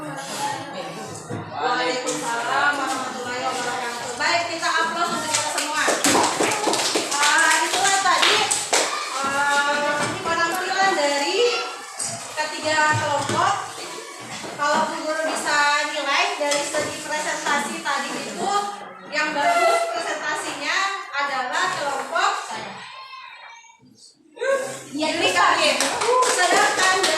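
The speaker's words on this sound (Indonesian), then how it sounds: "kita aplaus untuk kita semua" Applause from a classroom group of students and teachers, a dense, steady wash of many hands clapping that carries on for most of the stretch, with a short dip near the end before the clapping swells again.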